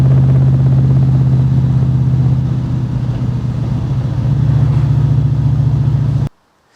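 A Dax 427 Cobra replica idles with a deep, loud, steady V8 rumble that rises slightly in its second half before cutting off abruptly near the end.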